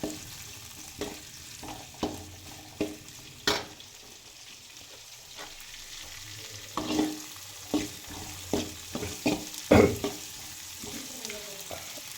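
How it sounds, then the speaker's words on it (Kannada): Onion, tomato and curry leaves fry in a tempering of mustard and cumin with a soft, steady sizzle. A spoon scrapes and taps the pan in repeated strokes that get busier toward the end. "ಇದನ್ನು ಕ್ಲೀನಾಗಿ ಫ್ರೈ ಮಾಡ್ಕೊಳ್ಳಿ"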